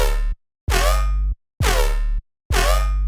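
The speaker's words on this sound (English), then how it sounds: "Glides up from the last known note, that D, all the way up to G" A loud, buzzy Serum 2 synth bass holds notes in four separate bursts, each gliding in pitch from D up to G before settling, with short silences between them.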